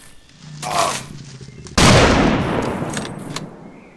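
Shooting at rodents in the game Squirrel Stapler: a softer shot, then a sharp, loud blast with a long rumbling tail fading over the next couple of seconds, no talking.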